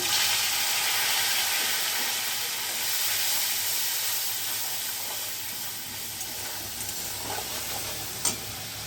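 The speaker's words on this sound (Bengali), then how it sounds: "সামান্য একটু জল দিয়ে দিচ্ছি মশলাটা কষানোর জন্য।" A little water hits a frying spice paste with sugar and turmeric for raw banana kofta, making a loud, continuous hissing sizzle that eases slightly over time, with a few small stirring clicks near the end.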